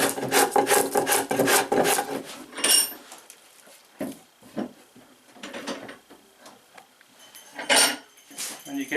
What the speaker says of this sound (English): but that'll speed it up doing it with the adze.